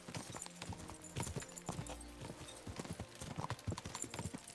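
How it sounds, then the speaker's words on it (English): Rapid hoofbeats of a galloping horse in the video game Kingdom Come: Deliverance II, a quick rhythmic clatter running throughout, with a brief low rumble midway and no talking. "This Godwin has a fast horse."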